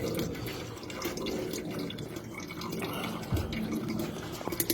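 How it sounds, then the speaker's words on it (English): Fluid trickles out of a hole in an MGF car during a subframe change, a steady, low-pressure splashing trickle that runs continuously at close range. "that's getting down to fairly low pressure now, just trickling out of there"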